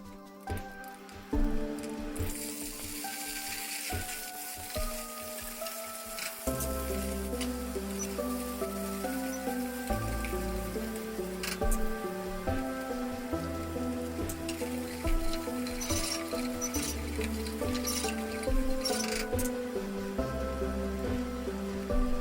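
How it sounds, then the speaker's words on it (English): Meat for Urfa-style stuffed kibbeh sizzles in warmed oil while being stirred, a continuous patter-like frying hiss running beneath steady background music for the whole stretch. "Add the meats after the oil has warmed up and stir."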